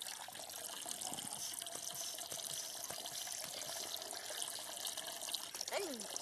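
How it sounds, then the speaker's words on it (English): Steady water pouring from a small hand pump into a cooking pot outdoors in the snow, a continuous close splashing trickle that runs throughout. "pump that up, and I can put that water right into my pot"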